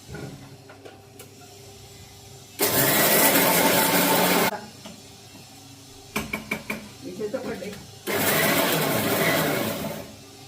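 A mixer grinder grinding lentils in its jar for dosa batter, running in two loud whirring bursts separated by quieter clatter and knocks, with a voice in the background.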